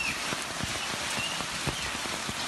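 Heavy storm rain in Istanbul pours in a dense, steady hiss, with hard drops or hail striking a surface in scattered close taps, no voices.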